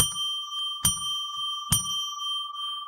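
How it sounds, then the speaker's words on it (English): A bell rung three times in an even, unhurried rhythm, each bright metallic strike ringing clearly and decaying over a steady background tone, with no talking. "I'll ring a bell 3 times to declare sacred space."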